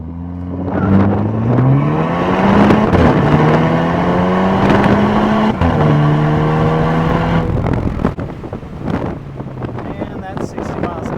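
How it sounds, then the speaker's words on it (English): A Volkswagen MK8 GTI with an AWE aftermarket exhaust launches hard from a standstill to 60 mph, its engine note climbing steadily through several upshifts, loud and close with wind buffeting the microphone, then easing off as the car settles. "Now we're going to launch the car. We'll do a quick 0 to 60."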